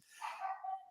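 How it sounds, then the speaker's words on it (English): A dog gives one short, strained bark or yelp, faint and somewhat distant in a quiet room. "I am so sorry about my dog."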